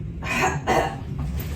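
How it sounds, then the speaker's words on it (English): A couple of muffled coughs or forced breaths, close up, with a low rumbling hum underneath. "Deep breath in. And cough."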